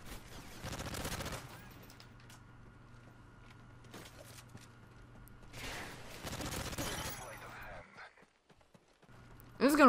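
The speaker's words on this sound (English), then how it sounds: "Why did the gun sound like that?" Gunshots in Call of Duty: Modern Warfare 3 during an Infected match, several sharp bursts a few seconds apart mixed with game noise under people talking.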